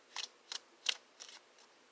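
Small playing cards being shuffled, heard as five short, crisp riffling bursts spaced about a third of a second apart, close and quiet against near silence.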